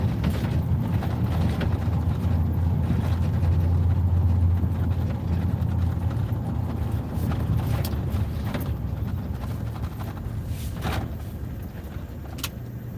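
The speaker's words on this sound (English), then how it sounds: "I did have to bring my loudest truck to drive over cobblestone." A loud, rattling truck driving over cobblestone streets in Indianapolis, heard from inside the cab as a continuous low rumble with clattering rattles and occasional sharper knocks throughout.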